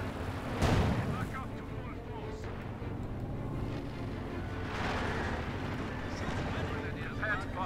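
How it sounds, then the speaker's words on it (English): A Panther tank in Company of Heroes 2 fires its main gun in heavy booms, one near the start and another midway. Both are fairly faint within the battle ambience, and a commentator talks over them. "Panther moving down into gun firing as always"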